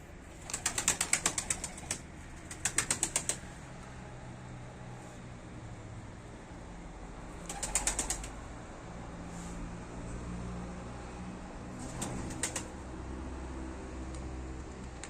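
A trained bird beats its wings in several short, sharp flurries of flapping spread across a quiet stretch, loud bursts close by separated by long pauses of low background hum.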